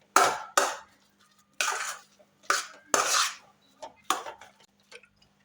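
A spoon mixes egg cutlet mixture with lemon juice in a pan, giving a series of about eight separate scraping, clinking strokes with short pauses between them, close and clear.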